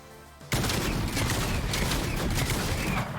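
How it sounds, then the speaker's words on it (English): Primal shotgun blasts in a video game pound against a wooden wall: after a brief quiet start, a dense, loud burst of rapid gunfire and impacts fills the rest of the moment without letup. "I had to shoot 8 shots to break this wooden wall"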